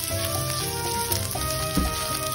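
Leftover pork belly sizzles steadily as it reheats in a kawali, a close, constant frying hiss with faint underlying hum and a couple of small pops.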